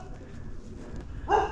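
A dog barks once, short and fairly close, behind a foreclosed house after a stretch of low background rustle.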